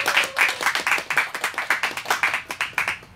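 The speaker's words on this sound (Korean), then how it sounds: "박수 주세요." Audience members at a live concert clap for the keyboard player of a band, a steady rhythmic unison clap repeating about four times a second, moderately loud and close, with no talk over it.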